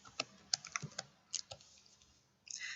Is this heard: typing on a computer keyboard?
yes